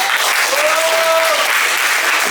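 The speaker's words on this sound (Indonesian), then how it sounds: "tepuk tangan" Students at a school workshop break into loud applause, a dense, sustained burst of clapping from a crowd with a brief voice or whistle-like tone rising through it.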